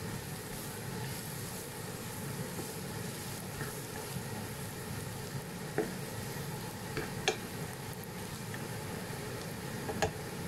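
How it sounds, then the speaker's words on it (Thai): Garlic stir-fries in a pan for a pork belly dish with chili and salt, giving a steady sizzle with occasional light scrapes and clinks of a spatula, close and continuous, with no talking. "ใส่กระเทียมลงมาผัดเลยนะคะ"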